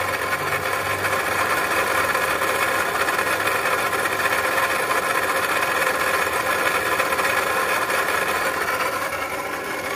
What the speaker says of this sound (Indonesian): bunyinya ini diakibatkan oleh water pump nih guys